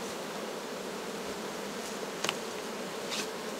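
Buckfast honey bees buzz in a dense, steady drone at the hive while honey is taken on a mild autumn day, the sound close and even, broken by a couple of faint clicks.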